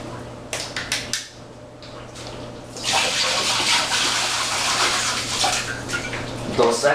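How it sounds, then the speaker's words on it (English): A few clinks and knocks, then water poured from high through a strainer for homebrewing beer falls in a loud splashing stream that continues to the end. "I'm actually going to pour this from pretty high and through my strainer"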